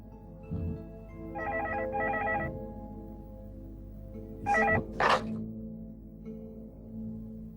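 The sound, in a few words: telephone dialing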